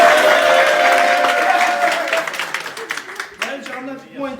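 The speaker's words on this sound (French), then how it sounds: "On peut applaudir Maël." An audience at a street magic show applauding, a burst of crowd clapping that fades into scattered claps, with people talking over it near the end.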